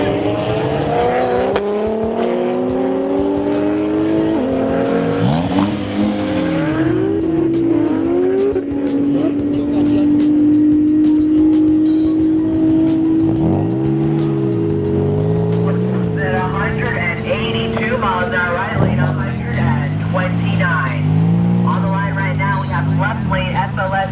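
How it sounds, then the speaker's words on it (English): A Mercedes SLS AMG and a Porsche 911 Turbo race side by side, engines revving hard and climbing through gear changes with repeated tire squeal, loud and close, with voices talking over parts of it. "Left lane SLS AMG Mercedes, right lane 911 Turbo."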